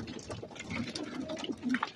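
Crated homing pigeons, about 173 birds waiting before a training release, coo and rustle restlessly at close range, soft overlapping calls with faint fluttering and no speech.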